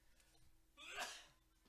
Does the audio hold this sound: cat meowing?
no